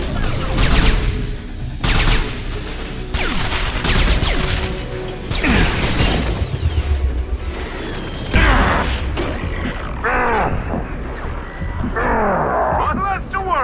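In Mass Effect 2, a grenade blast and gunfire crack out in a loud, chaotic burst of shots, crashes and metallic clatter, with repeated sharp impacts across the whole stretch.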